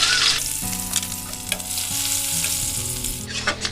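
Chopped onion drops into hot oil already spiced with whole cinnamon, cardamom, cumin and bay leaf, setting off a loud, close, continuous sizzle over steady tonal background music, with a few stirring bumps.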